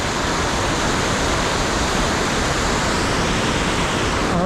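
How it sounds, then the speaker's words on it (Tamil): Rushing water roars at Hogenakkal Falls, a loud, dense, unbroken wall of noise from a heavy flow close by. "பாருங்கள் எவ்வளோ தண்ணி போயிட்டு இருக்குன்னு சொல்லிட்டு"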